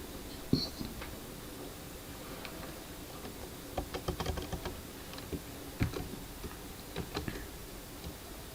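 Typing on a computer keyboard comes in scattered, faint clicks, sparse at first and then grouped into short quick bursts of keystrokes against a quiet background, with no speech.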